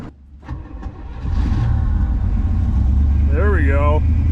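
A 1967 Pontiac Grand Prix convertible engine cranks briefly on a jumped battery, then catches and settles into a loud, steady low idle, with a few short spoken words over the running engine.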